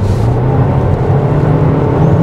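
A 2025 MG ZS Hybrid accelerates on a good road, heard from inside as a loud, steady engine drone with road and wind noise, no speech over it.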